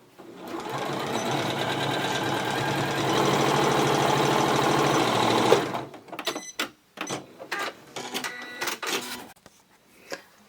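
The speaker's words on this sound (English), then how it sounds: "simply sew it shut." A sewing machine runs steadily, stitching a fabric bottle bag shut for about five and a half seconds, then stops; afterward come brief clicks and rustles of the fabric being handled.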